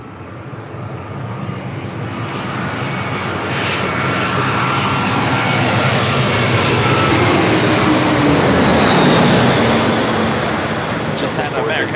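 An American Airlines Airbus A321 airliner passing low overhead at LAX, a loud broad engine roar that swells and sweeps past, with voices talking underneath.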